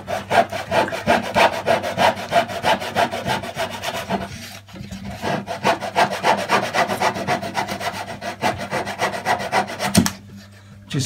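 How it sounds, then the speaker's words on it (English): Hand saw cutting chunks off a piece of wood for a model Mercury aircraft build, fast rhythmic rasping strokes up close and loud, with a brief pause midway and near the end. "Just sawing off some of the major chunks here now"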